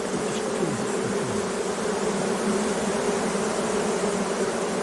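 Dense, steady swarm of honeybees droning over a hive frame at an apiary, a loud continuous buzz close to the ear with individual bees zipping past, no talking.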